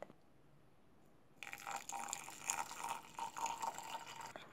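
After a quiet start, water pours over anise seeds in a vessel, a close, bubbling trickle with small splashes that continues to the end.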